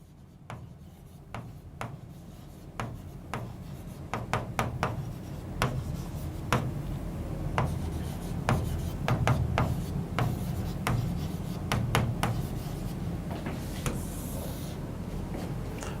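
Pen scratching across paper as organic chemistry notes are written, a run of quiet, close strokes and taps in an irregular rhythm with no talk.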